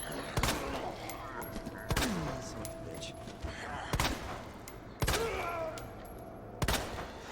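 Single heavy gunshots ring out one at a time at an uneven pace, about five or six close blasts, while shooting zombies in the Resident Evil 2 Remake video game.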